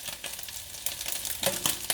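Pasta is stirred through in a pan, short scraping and clattering strokes over a faint sizzle, close and brief.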